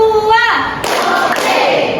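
A classroom of students claps a two-beat pattern, two sharp loud claps following a brief spoken call from a teacher.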